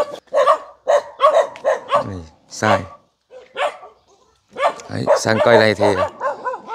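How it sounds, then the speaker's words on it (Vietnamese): A dog barks in bursts in an orange orchard of Vinh and sugar orange trees in a rural village, the short harsh barks heard nearby while someone talks over them. "Đi quay chó nó cắn này."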